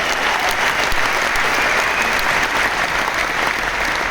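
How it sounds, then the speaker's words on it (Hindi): Loud, dense applause from a large crowd fills a stadium complex in Delhi, steady and sustained throughout without a break. "मैं एक बार जोरदार तालियां चाहता हूं"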